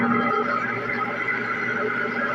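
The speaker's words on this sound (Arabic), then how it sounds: "هنضرب دولت في الخلاط كده" An electric blender whirs through a batter of all-purpose flour with salt and sugar for Syrian flatbread. The motor gives a loud, close, steady drone with a constant pitch for a couple of seconds.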